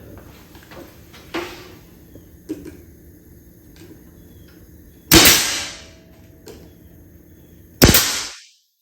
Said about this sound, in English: you always want to shoot your nails this way